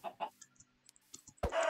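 A Minecraft chicken gives a couple of soft clucks, followed by scattered small game clicks and then a louder burst of sound at the end.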